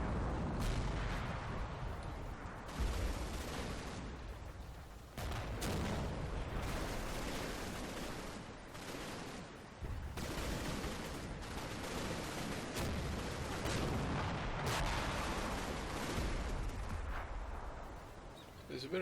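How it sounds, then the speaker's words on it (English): Gunfire and heavy shelling into a building in the WWII tactical wargame Combat Mission: Red Thunder, a dense continuous barrage of booms and crackling shots, loud and sustained, with brief gaps between volleys. "There's a bit of fire going into that building there."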